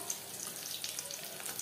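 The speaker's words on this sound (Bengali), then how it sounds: "পরের চপ একইভাবে ভেজে নেব।" A paneer chop fries in hot oil, giving a faint, steady crackling sizzle with a few small pops, alone and brief.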